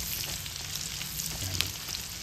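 Onions sautéing in a pan while cooking dinuguan give a steady, close sizzle and crackle throughout, with no talk over it.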